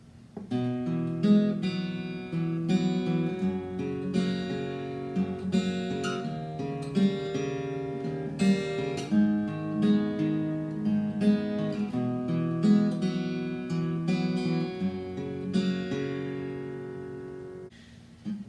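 A guitar plays the bridge of a song, a continuous melodic passage of plucked notes and chords at a moderate pace for about eighteen seconds, with no one speaking.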